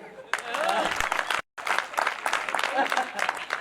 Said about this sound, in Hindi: आज जहाज बजाओ भैया ताली।